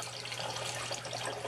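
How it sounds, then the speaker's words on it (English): Water rushes steadily from the emergency drain of an algae scrubber being purged, a continuous close hiss and splash with no pauses and no talking. "we are now purging out the emergency drain"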